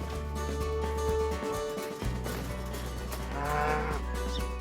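A cow moos loudly and close by, one long drawn-out low call, with a steady low hum behind it.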